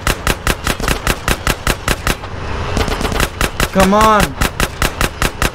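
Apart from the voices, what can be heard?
gunfire in video game GTA San Andreas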